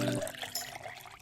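Water is poured into a miniature cooking pot, a brief, light trickle and splash close by that follows a short tonal sound at the start, with no talking.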